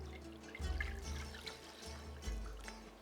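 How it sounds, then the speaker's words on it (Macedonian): Sparkling mineral water pours into a bowl with a soft, close trickle and fizz, in a couple of short bursts. The sound is faint and plays alone. "Прво ја ставаме киселата вода"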